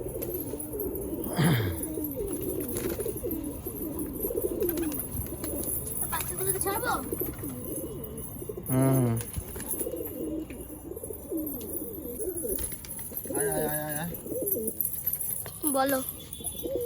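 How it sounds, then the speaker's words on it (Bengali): Pigeons at a house with birdcages give low, repeated coos and a few wing flutters amid a busy background, with people talking intermittently nearby. "বাইরে কিছু এখানে পায়রা আছে, এখান থেকেও কিছু পায়রা আমি ছেড়ে দিই"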